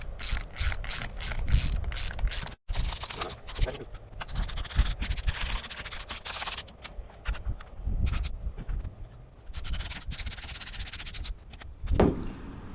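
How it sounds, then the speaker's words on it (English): Nuts are tightened on a Razor Crazy Cart brake kit with a ratchet: rapid close clicking in quick repeated runs with brief pauses, loud and steady, with no speech. "I like to hold this side while I tighten these nuts down"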